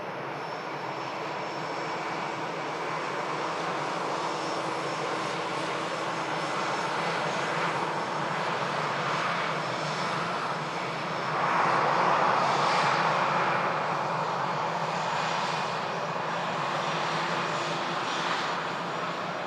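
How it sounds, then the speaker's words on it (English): A Scandinavian Airlines Airbus A320neo arriving from Oslo lands at Manchester Airport, its engine roar steady and broad throughout, swelling slightly louder near touchdown before settling back. "Here's the Scandinavian from Oslo"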